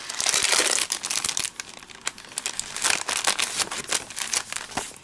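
Paper envelopes from a card-making kit crinkle and rustle as they are handled and pulled from their packaging, a close, continuous run of crisp crackles with sharper snaps toward the end.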